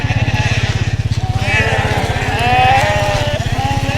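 Sheep bleat repeatedly and loudly at close range over a steady, rhythmic motor running underneath, the calls overlapping and wavering as the flock is moved through a temporary rope-wire fence opening on a sheep farm.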